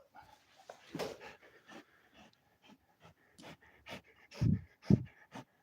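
A dog pants in quick, uneven bursts of breath close by, fairly faint, with a few louder huffs toward the end and short gaps between breaths.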